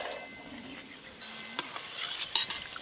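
Langcha, balls of chhana dough, fry quietly in a pan with a soft sizzle, while a utensil stirs them and now and then gives a light metallic clink against the pan.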